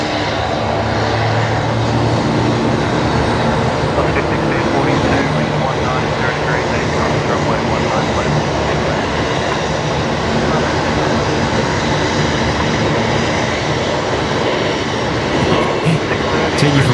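Air New Zealand Airbus A321neo departing Brisbane for Auckland at night, a loud continuous engine roar filling the whole stretch, with voices talking over it.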